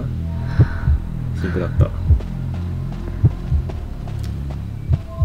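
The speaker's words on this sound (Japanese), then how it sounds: "この心音がするときは近くにハンターがおるってことやな。" Heartbeat warning cue from the mobile game Identity V signalling a nearby hunter, a series of deep double thumps repeating every second or so under light game ambience, with a voice speaking briefly over it.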